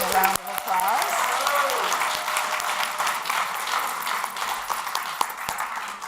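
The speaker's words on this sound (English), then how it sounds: "Thank you for the beautiful music tonight and for all, a round of applause" Applause from a gathered audience after evening music at a New Year's Eve service, a continuous wash of clapping with a voice speaking over the start and sharp individual claps standing out.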